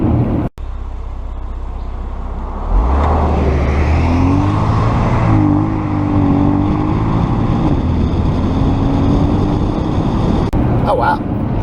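Porsche Cayenne SUV driving on winding mountain country roads, heard from inside as a steady loud road and engine drone with the engine note rising and falling through the turns, with someone talking over it.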